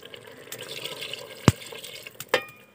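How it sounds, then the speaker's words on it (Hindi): Water poured into a curry (salan) cooking in a pan, giving soft splashing and stirring sounds with two sharp knocks partway through, close and fairly quiet. "तो इसको मिक्स करके तो हम अभी इसमें डालते हैं पानी।"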